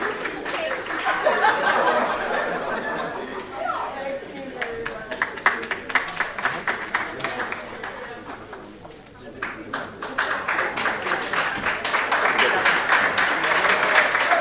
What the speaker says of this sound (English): Let's just keep clapping for them.